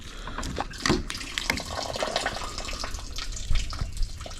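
Coolant splashes and pours out while a water pump is being replaced on a 2008-2015 Hyundai Santa Fe with the 3.3L engine, an uneven liquid gush with a few clanks nearby.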